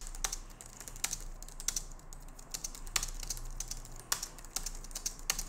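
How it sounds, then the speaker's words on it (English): Typing on a Logitech MX Keys Mini keyboard makes soft, fairly quiet key clicks in an uneven, steady stream, with occasional sharper taps over a low background hum. "as you can hear from that typing test, the keys aren't too loud"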